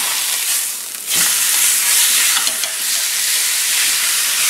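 A steak flipped in a hot skillet sets off a loud, steady sizzle that surges briefly as the meat lands and then holds continuously, close and uninterrupted, with no talk.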